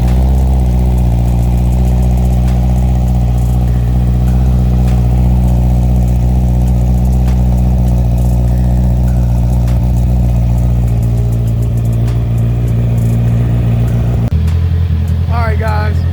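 Honda CBR650R motorcycle fitted with an Akrapovic exhaust idling steadily on a cold start, a loud, close, low rumbling drone that holds even throughout before dropping abruptly near the end.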